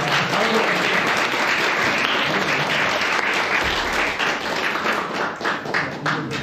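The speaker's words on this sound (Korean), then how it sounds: "박수로 모시겠습니다" Dense, steady applause from a crowd at a Gimpo FC supporters' general meeting, continuous and fairly loud for several seconds as a club secretary general is welcomed.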